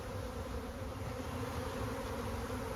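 A honey bee swarm pours out of a hive, a dense, steady buzzing drone of countless bees that holds at an even, fairly close level throughout with no voices.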